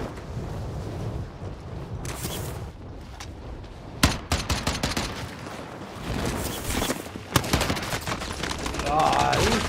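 Gunfire in a shooter video game: bursts of rapid automatic shots and single cracks, some close and loud, others more distant, over a low rumbling background with brief player voices.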